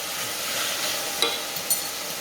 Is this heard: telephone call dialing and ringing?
no